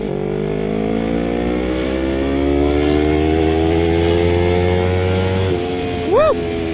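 A Yamaha R3 V2 motorcycle engine revs steadily higher toward 12,000 RPM, a loud sustained rising drone that drops off, followed by a brief final blip.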